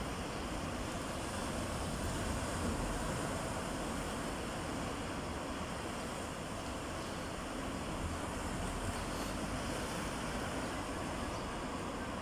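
Surf washing steadily against the shore at a beach beside a natural sea pool in Azenhas do Mar, Portugal, a continuous broad roar with no break and no voices.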